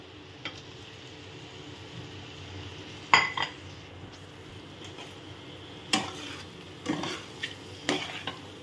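Boiled, cut eggs stirred into a tomato masala in a pan, with a low steady sizzle beneath and several sharp clinks and scrapes of a spoon against the pan.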